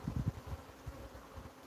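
Honey bees buzz inside an opened hive during a full inspection, a faint, low, fluttering drone with a few louder pulses at the start.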